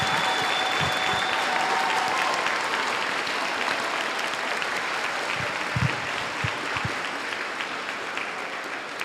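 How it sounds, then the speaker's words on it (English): Sustained applause from a junior high student body fills a school gathering, a dense, steady wash of many hands clapping continuously with a few louder claps standing out near the end. "Give yourselves a huge round of applause"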